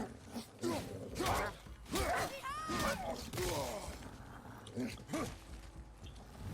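Hostile dogs in God of War, snarling, growling and yelping in several short bursts, fairly close, with people talking over the game sounds.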